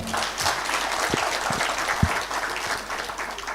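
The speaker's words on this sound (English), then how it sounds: "Give him a hearty clap." Steady applause fills the room as an audience at a hybrid grant-writing workshop for Kenyan researchers claps for a speaker, with a few sharper claps standing out from the dense wash.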